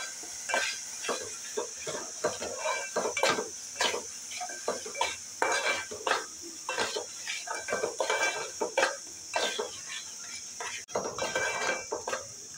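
A spoon scrapes and clinks against a pan in quick, repeated strokes as masala and crushed peanut powder are mixed together for stuffed capsicum. A light sizzle runs underneath, close and fairly loud.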